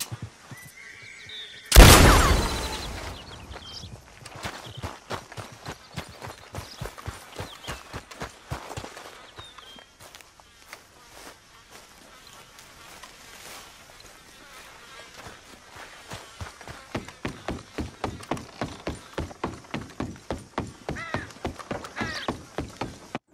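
Horse in the Red Dead Redemption video game, with whinnying and clip-clop hoofbeats, including a loud burst near the start and a steady run of hoof strikes growing stronger toward the end.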